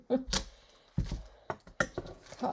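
Scissors snip through a plastic sandwich bag at a craft table, a few sharp, separate close-up cuts with rustling between them.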